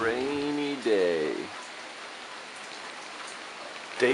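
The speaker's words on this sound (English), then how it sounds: "Rainy day." Steady rain falls outdoors in Portland, Oregon, amid heavy flooding, making a continuous soft hiss; a voice speaks briefly at the start before the rain carries on alone.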